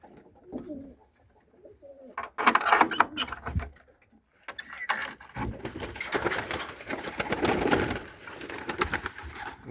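Turkish takla pigeons coo and rustle in a loft, faint calls at first, then denser close cooing and wing movement with people talking over it in the background.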